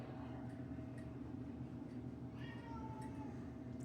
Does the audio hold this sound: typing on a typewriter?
no